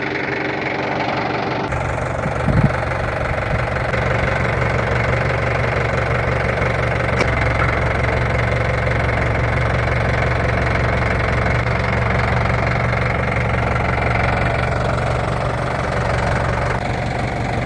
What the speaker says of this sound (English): I'm gonna turn her loose and move the tractor.